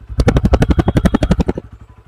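Honda CB125 Hornet, a 2025 125cc motorcycle, idles close up with a rapid, even pulsing exhaust beat that throbs steadily for about a second and a half before tapering off, with no talking.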